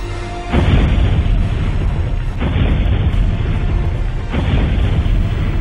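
Three heavy, rumbling bomb explosions, about two seconds apart, each a loud booming blast that stays roaring and doesn't fade.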